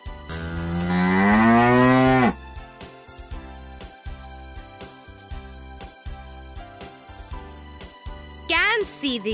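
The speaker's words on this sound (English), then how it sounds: "Cow." A loud, drawn-out cow moo fills the first two seconds, followed by softer clicking and tapping sounds, with a second short call near the end.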